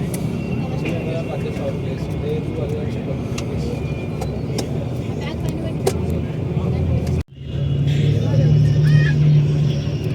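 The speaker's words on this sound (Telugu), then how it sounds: "స్టార్ట్ అయింది బస్సు." A sleeper bus on a Tirupati to Hyderabad night journey starts and pulls away, heard from inside the air-conditioned cabin as a steady engine hum that briefly cuts out, then returns with a rising drone.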